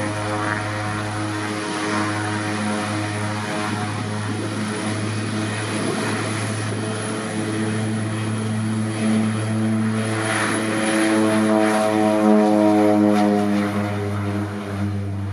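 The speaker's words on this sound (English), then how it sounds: "it was straight outside to see my aircraft depart" A Winair Twin Otter propeller plane departs Saba's short mountain airstrip, its twin turboprops giving a loud, steady droning hum with strong low harmonics that swells slightly toward the end, with no talking.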